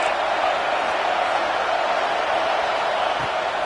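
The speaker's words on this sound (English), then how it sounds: "this crowd is turning it up a notch." A video-game football stadium crowd keeps up a loud, steady roar, a broad wash of noise with no breaks, as if the fans are getting louder before a second-down play.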